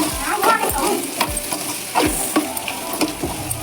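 Coriander powder is stirred into dried prawn curry with ivy gourd and tomato frying in a pan: loud, rhythmic scraping strokes of a spoon repeat every half second over a constant sizzle.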